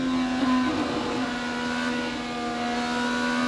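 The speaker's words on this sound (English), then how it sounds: "But listen to Dixon work the throttle." IndyCar race car at the 2018 Indianapolis 500, its engine droning loud and steady at high revs as the driver works the throttle with slight rises and dips through a four-wide late-race pack, with no talk.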